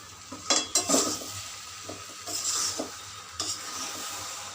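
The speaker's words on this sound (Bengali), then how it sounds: "এটাকে ভালো করে কষে নেব" Six whole tomatoes being sautéed and stirred in a pan, with a steady sizzle under scattered scrapes and clinks of a spoon against metal, close and moderately loud.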